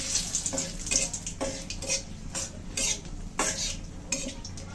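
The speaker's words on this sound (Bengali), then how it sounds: "এখন মাছ রান্নার জন্য ফোড়নে দিয়ে দিচ্ছি শুকনো লঙ্কা, তেজপাতা" Dried red chillies and bay leaves dropped into hot oil in a kadai for a fish curry, giving a steady crackling sizzle with scraping stirs and clinks of a metal utensil against the pan, close and alone.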